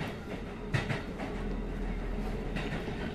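Steady low rumble of a train running in a horror video game about a funeral train at dusk, continuous and fairly loud, with a few brief knocks and rattles over the drone.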